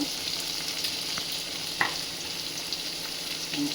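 Chopped tomatoes sizzle in a hot pan over softened onions as a spoon stirs them, a continuous close frying hiss with a few small scraping clicks from the stirring.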